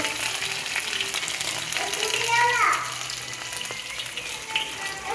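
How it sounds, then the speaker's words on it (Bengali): Ginger fries in oil with a continuous close sizzle and occasional stirring clatter, while a voice speaks briefly in the background partway through. "আদাটা তেলে দিয়ে দেবো ভালো করে ভেজে নেবো"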